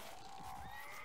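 A horse in the video game Perisno gives a drawn-out whinny, a wavering tone that rises and falls over a steady background din.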